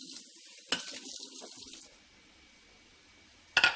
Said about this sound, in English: That's just me rinsing out the plate for my shrimp.